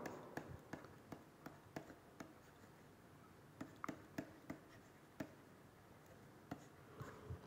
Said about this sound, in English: Let me write this again for you.